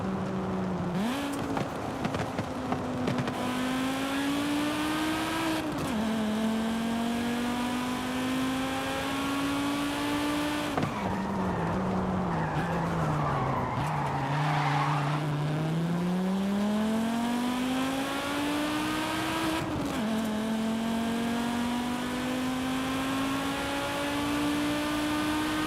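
A five-cylinder car in Forza Horizon 5 revs hard through repeated upshifts. Each gear climbs in pitch before a quick drop, and a deeper lull comes midway, all loud and close with no voices.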